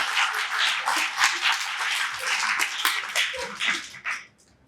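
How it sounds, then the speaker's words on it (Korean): Church congregation clapping for a preacher, a loud dense burst of applause that holds steady for several seconds before quickly dying away. "좀 박수를 한번 쳐드려요."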